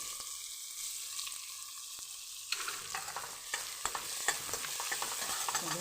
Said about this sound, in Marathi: आता आपण कांदा परतून घेऊया मऊ होऊस्तोवर.